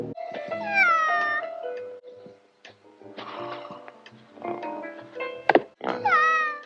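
A cat meows several times, drawn-out, wavering cries close by separated by quiet gaps, with small thumps and ticks between them.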